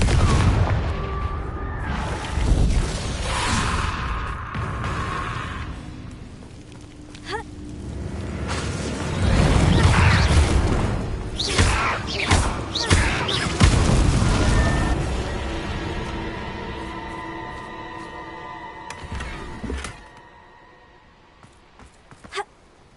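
Blasting-spell explosions in the Hogwarts Legacy game, several loud booming blasts with crackling debris and rumbling tails. They bunch at the start and again in the middle, then ease off toward the end.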